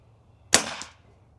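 A single sharp crack from a Pinty NightFall GEN2 single-shot air rifle firing a light pellet, close and brief with a short tail, alone in quiet surroundings.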